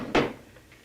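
A desk drawer is shoved open or shut with a single short wooden thud and a brief scrape, close and moderately loud, then fading to quiet.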